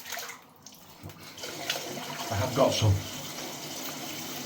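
Water splashing at a sink as a face is wetted before a wet shave, a few soft splashes and trickles over faint running water, with someone speaking briefly.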